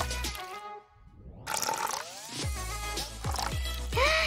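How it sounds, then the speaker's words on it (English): Water is poured onto a doll's miniature garden in several small bursts of trickling and dripping, with splashy spurts and a brief gap near the start, close and fairly quiet. "Let's water our garden properly, like this."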